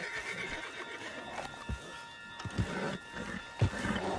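A horse in the video game Red Dead Redemption neighs amid soft low thuds that could be hoofbeats and a steady background of game ambience, moderately loud and without clear talk.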